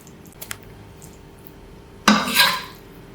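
Chicken macaroni served out into a dish: a couple of light clinks, then a loud scrape and clatter of a spoon against a metal pot, close by.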